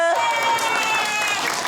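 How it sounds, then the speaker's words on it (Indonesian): Applause and crowd noise from a studio audience at a televised religious talk show, a dense wash of clapping that fills the whole short moment. "Kenapa tepuk tangan Ibu?"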